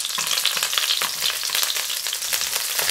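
Garlic frying in a pan, a steady close sizzle with crackling pops that holds at an even level throughout, no talking.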